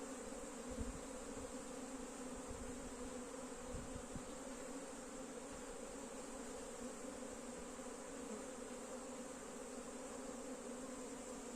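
Honey bees buzz steadily and densely at a hive where many queen cells are being removed to prevent swarming, a continuous close hum with no voices.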